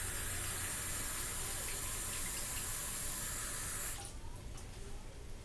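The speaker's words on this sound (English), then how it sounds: "so we're going to add water." Tap water gushes steadily into a cooking pot for boiling cheese tortellini, a loud continuous splashing rush that cuts off near the end, leaving a quieter sink ambience.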